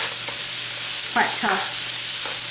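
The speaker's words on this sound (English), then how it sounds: "give that a nice turn. All right, because the shrimp are cooking nicely." Shrimp stir-frying in a pan for pineapple fried rice, a loud steady sizzle hissing throughout, with a person briefly talking over it.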